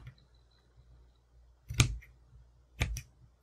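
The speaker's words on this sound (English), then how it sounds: "And I will snip just a little bit of material like this." Cutters snip into fabric for a handmade bow tie, two crisp, close cuts about a second apart against a quiet background.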